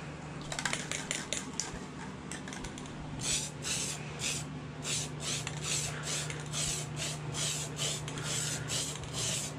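Hammered-finish spray paint is hissed onto a frame in a series of short, even bursts, each a few seconds long and fairly close, over a steady low background hum, with no talk.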